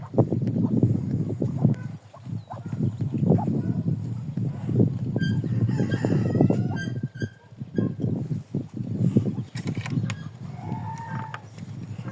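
Geese and chickens on a farm during regrouping make a dense, close mix of honks and clucks. A few higher crowing or squawking calls rise above it, over steady background noise.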